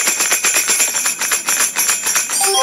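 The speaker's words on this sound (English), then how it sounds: "Dorothy, I made this with bells, and this is how I ring it" Bright metallic bells jingle in quick repeated shakes, close and fairly loud, with a rattling rhythm that continues throughout.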